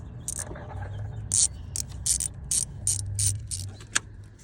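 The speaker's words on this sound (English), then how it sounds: "let's put these bolts in" A ratchet tightens bolts on a Ford Focus dual-clutch actuator, giving rapid runs of close, crisp clicking in short bursts over a faint low hum.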